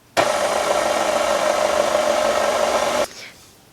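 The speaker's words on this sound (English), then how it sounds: "we're just going to mix that on low until everything is incorporated together" An electric mixer runs on low, mixing shortbread dough for pecan bars with a steady, even whir for about three seconds before cutting off abruptly.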